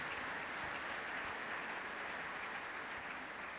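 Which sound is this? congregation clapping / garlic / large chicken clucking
congregation clapping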